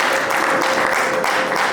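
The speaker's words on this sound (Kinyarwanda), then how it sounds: "amashyi menshi." Wedding guests applauding at a Rwandan wedding celebration, a dense steady wash of clapping that carries evenly through the short stretch with no pauses.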